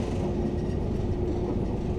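A train rumbles steadily across a long, low rail viaduct over the Kent Estuary, a continuous, fairly faint rolling drone without clear wheel clicks.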